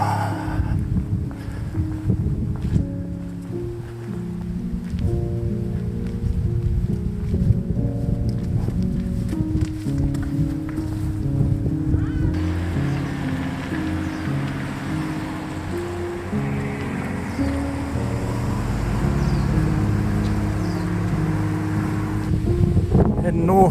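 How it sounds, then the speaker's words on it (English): Strong wind gusting down from mountains along a hiking trail in Japan, a steady broadband roar buffeting the microphone throughout, with someone talking over it for much of the time. "there's a mean wind blowing off them mountains up there"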